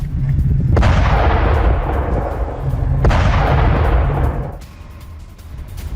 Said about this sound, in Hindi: सऊदी अरब के आभा एयरपोर्ट पर हमला किया गया है और हूती विद्रोहियों ने मिसाइल अटैक किया है।